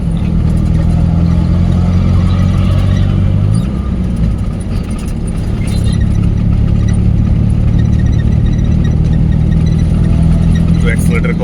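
Car engine running loud and close during a driving lesson, holding a steady hum that dips around the gear change near the middle and then builds again under light acceleration.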